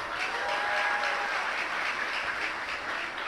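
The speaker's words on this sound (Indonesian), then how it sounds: "Tepuk tangan yang ada malam ini itu" A crowd claps at an evening gathering of the Annuqayah Islamic boarding school in its Lubangsa area, a sustained, even applause that holds at moderate loudness throughout with no speech over it.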